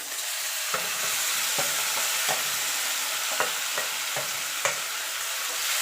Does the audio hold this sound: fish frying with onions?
yes